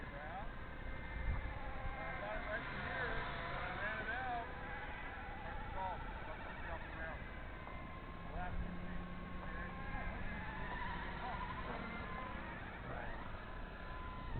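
A MicroHeli 230s RC helicopter with triple carbon fiber blades and an independent tail motor buzzes steadily in flight, a high insect-like whine over a continuous rotor drone, with people talking throughout.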